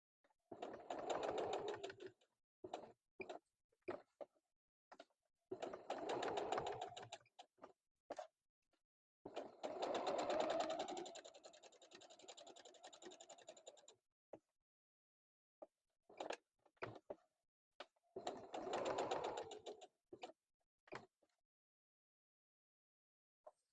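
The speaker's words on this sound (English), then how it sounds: "Now we're going to take it to the sewing machine and we're going to stitch all the way around" A sewing machine runs in several short bursts of rapid stitching, separated by quiet pauses and small clicks, close and clear.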